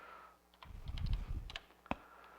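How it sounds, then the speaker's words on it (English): Typing on a computer keyboard at a vintage computer demo station, a cluster of soft, rapid key clicks over low room rumble, ending in one sharper isolated keystroke. "Sorry, I'm typing."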